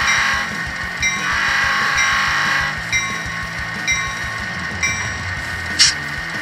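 An HO scale GP9 diesel locomotive model with a LokSound DCC sound decoder, running with its shell off, gives a steady diesel engine rumble with hissing and a few sharp clanks and bursts, fairly loud and close with no talking.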